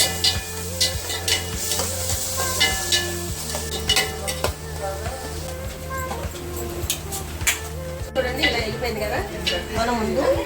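Onion and ginger-garlic paste frying in a pan for crab curry, with a steady sizzle broken by repeated scrapes and stirs of a spoon against the pan, close and fairly loud, with occasional metallic clinks.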